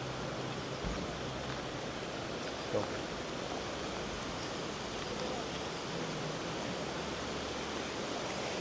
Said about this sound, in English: love looking at this stream of water.